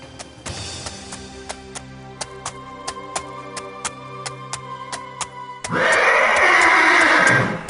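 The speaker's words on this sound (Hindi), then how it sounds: "ये तो नाना साहब का घोड़ा है।" A horse neighs in a shrill, drawn-out whinny near the end, loud and alone, following a steady rhythmic ticking pattern over a low sustained drone in a dramatic historical scene about a Peshwa's horse returning after a flood.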